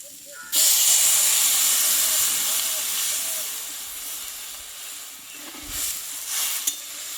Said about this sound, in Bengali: এবার আমি এখানে জলটাকে দিয়ে দেবো